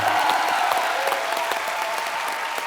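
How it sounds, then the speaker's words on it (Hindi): Loud, sustained applause from a sizable audience, dense clapping filling the room without a break. "एक बार सीआईडी की पूरी टीम के लिए जोरदार तालियां आ जाएं"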